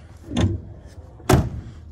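Two solid thuds of a 1965 Ford Mustang barn-find car's door shutting, the second louder and sharper, close by with quiet moments around them.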